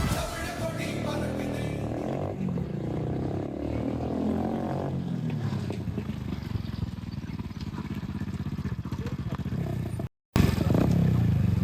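Motorcycle engine roaring during a road race, a sustained loud drone with rising and falling pitch as it revs, heard close throughout with a brief dropout near the end and people talking over it.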